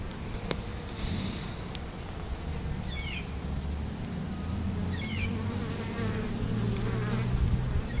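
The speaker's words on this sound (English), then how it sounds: "It's worker bees, foragers." A dense, low drone of many worker honey bees, foragers, buzzing close by at a hive, steady throughout, with a few faint chirps in the background.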